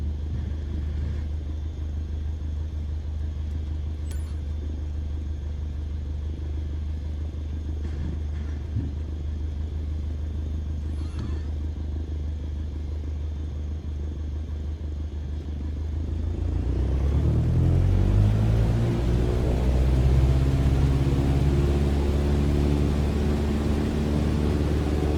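Low, steady engine rumble of a plane taxiing in MS Flight Simulator 2020, droning evenly for a long stretch before swelling into a louder, deeper roar with rising and falling tones near the end.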